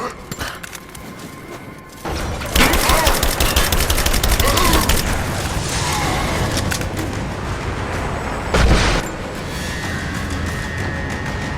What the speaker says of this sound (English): They're firing at me.